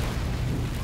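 A tank gun blast in the Men of War Assault Squad war game, a French tank in a German soldiers mod: a brief, loud, dense booming rumble that fills the whole moment.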